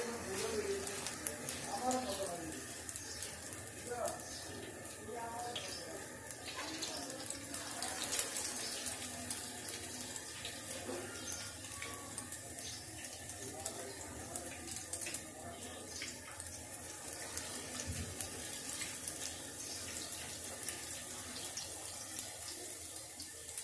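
Flattened spinach pakoras drop into hot oil and fry with a soft, continuous crackling sizzle, faint and close, under a person talking.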